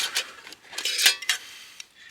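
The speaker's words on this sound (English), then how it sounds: "got to get the silverware in there just right." Metal silverware being packed into a metal bush pot, a quick series of bright clinks and rattles close by, irregular and lively over about two seconds, with no talking.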